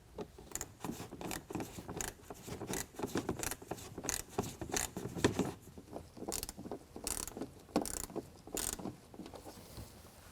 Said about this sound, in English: go ahead and tighten those down with a 7mm